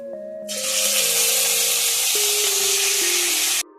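Chicken meat drops into a pan of frying spices and sets off a loud, steady sizzle that starts suddenly, holds for about three seconds, then cuts off. A low background tone runs underneath it.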